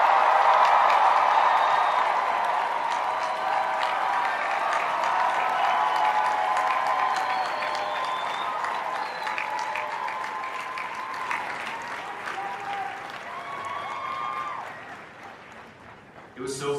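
A large Comic-Con crowd applauds steadily in a convention hall, a dense sustained wash of clapping that slowly thins and fades out near the end.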